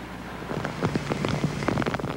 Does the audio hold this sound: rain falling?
yes